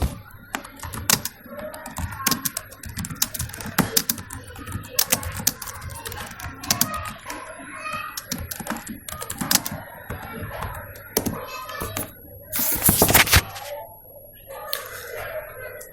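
Rapid clatter of keys on a computer keyboard as a social media post is typed, bursts of close, crisp clicks with short pauses and one louder flurry near the end, with no speech.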